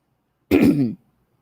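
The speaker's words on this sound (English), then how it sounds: "Had to clear my throat." A single throat clearing, close and fairly loud, lasting about half a second with silence before and after.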